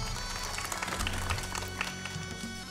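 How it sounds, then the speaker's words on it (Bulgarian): An audience claps at a European folklore festival event, a brief, fairly faint patter of applause with some background murmur and no clear speech. "Моля, вашите още по-силни аплодисменти за него."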